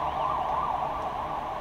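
An ambulance siren wails steadily from some distance, its rising and falling tone faint and continuous outdoors on a hot day, with no talking over it.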